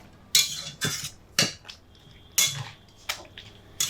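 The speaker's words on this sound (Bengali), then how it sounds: "একটু নেড়ে চেড়ে দিচ্ছি" Cooked moringa leaves are stirred in a pot, with about six sharp metallic scrapes and clinks of a spoon against the pot. The strokes are spaced at an irregular rhythm, close up, with no voices.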